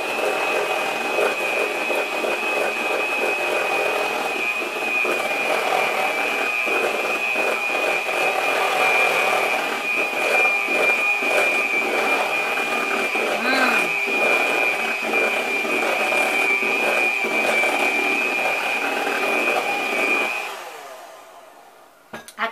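An electric mixer whirs steadily through strawberry lemon cake batter, a loud continuous motor drone lasting about twenty seconds before cutting off abruptly.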